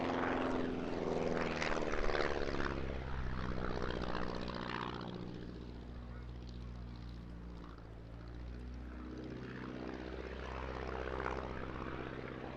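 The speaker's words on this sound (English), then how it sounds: "pushing up now, holding it till the airspeed bleeds off, putting it into a stall turn, a big boot full of rudder" A propeller aerobatic plane at a seaside airshow pulls up into a stall turn and yaws through with full rudder, its engine a steady droning roar that dips slightly mid-manoeuvre before swelling again, heard continuously at moderate distance.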